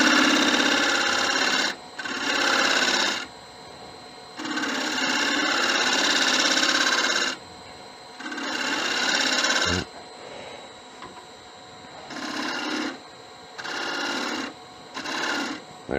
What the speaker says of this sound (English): I know I'm cutting uphill, but I'm trying to make as much pressure as I can go that way.